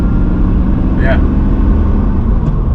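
A manual-swapped Mercedes W124 runs with a steady low engine drone heard from inside the cabin, constant and loud, with a brief voice over it.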